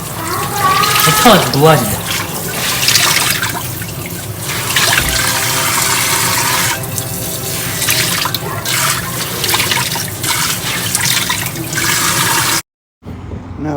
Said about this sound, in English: you just rinse them all out